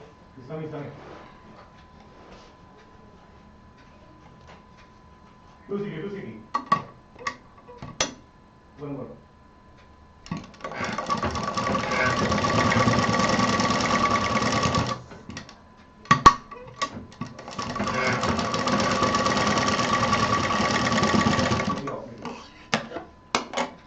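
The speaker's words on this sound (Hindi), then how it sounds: "यहाँ सिलाई डबल चलाएंगे" A sewing machine stitching fabric for a money gift pouch, running in two long steady bursts of rapid mechanical clatter, with short clicks, handling noises and brief speech between them.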